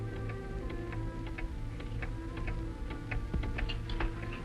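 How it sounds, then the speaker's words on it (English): A mechanical clock ticks steadily in a quiet room, its soft, regular clicks repeating close by under a low background hum, with no voices. "Cisco, listen to this clock and tell Pancho we hear tick-tick-tickling."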